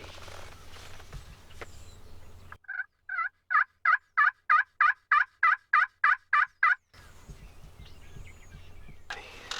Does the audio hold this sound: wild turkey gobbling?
yes